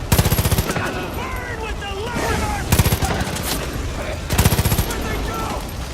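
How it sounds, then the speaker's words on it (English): Assault rifle fire in Far Cry 5, loud close bursts of rapid automatic shots in three separate volleys, with someone talking over the gaps between them. "I'm gonna try to kill him with my assault rifle"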